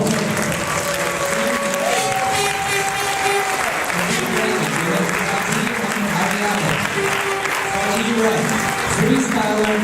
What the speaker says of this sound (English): I encourage every one of you to give them all a round of applause